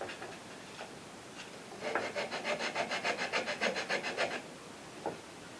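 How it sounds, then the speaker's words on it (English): Sandpaper rubbing along a wooden acoustic guitar neck in a quick run of about a dozen even, rhythmic strokes, with a few isolated scrapes before and after, close and fairly quiet. "finished up with some sandpaper."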